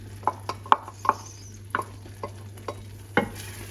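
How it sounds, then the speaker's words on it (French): Porcini mushrooms are stirred into a risotto in a pan, giving a series of quiet, irregular scraping and wet clicking stirs over a faint steady hum, close and alone without talk. "cette fois-ci, je mets les champignons."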